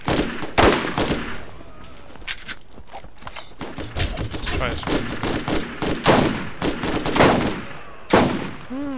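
Gunfire from a gun in the video game Borderlands: scattered bursts of sharp shots and rapid volleys crackle through a busy mix of game sound effects at moderate volume.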